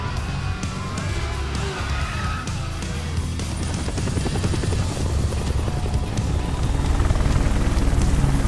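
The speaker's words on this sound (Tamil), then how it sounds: "ஹெலிகாப்டர் சாச்சிட்டாங்க" A helicopter in the Tekken 8 story mode on PS5 gives a loud, continuous rotor roar with a steady chopping pulse that grows slightly stronger toward the end.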